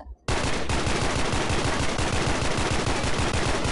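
Rifle burst fire in Special Force 2, a loud, close rapid stream of shots with a steady rattling rhythm after a brief quiet start, continuing without pause.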